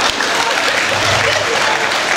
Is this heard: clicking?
no